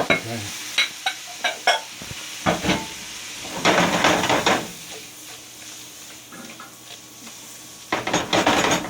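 Scallops go into a hot pan of seafood for a white wine butter sauce fettuccine. Metallic clattering tosses come first, then loud bursts of sizzling, with a brief spoken word in between.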